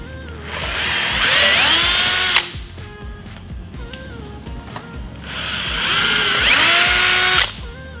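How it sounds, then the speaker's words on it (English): A power drill bores into a roller skate, two long high whining runs under load with a short pause of small clicks and handling noises between them, loud and close, with no talk. "You may drill through into the shoe, so be careful about how much pressure you're putting in on the drill."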